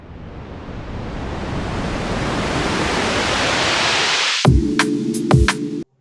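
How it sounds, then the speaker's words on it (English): A synthesized noise riser built with a software plugin swells steadily in a rising whoosh, then gives way to a few hard electronic drum and bass hits before cutting off abruptly. "how you can use this plugin to create these kind of riser sounds"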